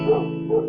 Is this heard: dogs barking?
yes